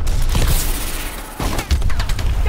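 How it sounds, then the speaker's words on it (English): An explosion in the Call of Duty: Advanced Warfare video game gives loud, sustained blasts and crashing debris with a dense roar, followed by more sharp impacts and rumbling. "That is the biggest explosion."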